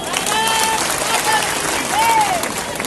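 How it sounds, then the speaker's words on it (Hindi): A crowd applauding at an election rally in Gwalior, continuous dense clapping held at a steady level, with voices and cheering tones rising through it. "जोरदार ताली बजाओ।"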